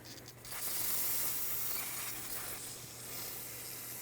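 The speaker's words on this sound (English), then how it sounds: "Rinse this off with brake parts cleaner." Brake parts cleaner sprayed from an aerosol can onto a Chevrolet Silverado 2500 HD rear brake hub, a soft, close, continuous hiss lasting a few seconds.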